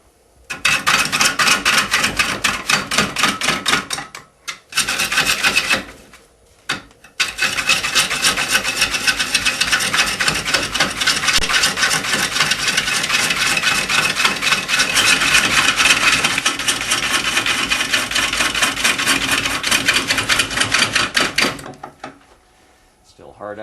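Continuous rough scraping of a lathe tool bouncing against spinning, not-yet-round wood, loud and steady with a rapid chattering texture, broken by two short pauses.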